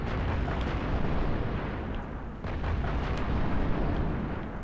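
In Halo: Reach, a missile explodes after the player flies into their own shot, giving a loud, sustained rumbling blast with crackling debris that fills the whole moment without voices.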